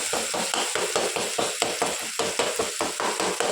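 Tomatoes frying and softening in a pan on a gas stove, a constant sizzle broken by rhythmic stirring scrapes and small spatters, close and fairly loud, with no talk.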